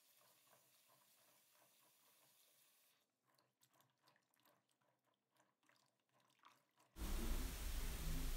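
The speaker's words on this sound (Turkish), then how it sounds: "Sonra bamyaları bol suda birkaç kez güzelce yıkıyoruz." Fresh okra being washed in plenty of water, soft handling and splashing sounds at first, then a loud rush of running tap water bursting in near the end, close by and with no voices.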